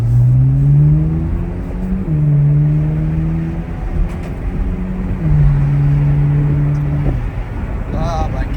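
A Chevrolet Corvette C8 Z06 engine holds steady revs in long, loud stretches, shifting pitch at gear changes around a right turn, while a person talks excitedly over it.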